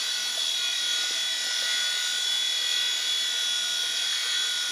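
A small RC helicopter runs at full throttle, producing a constant high-pitched whine and buzz with no change in level, close and steady throughout.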